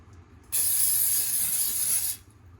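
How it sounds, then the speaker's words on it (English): A single steady hiss of a can of cooking oil spray into a bowl, lasting about a second and a half, close and fairly loud, then cutting off. "now I'm going to spray the bowl with oil"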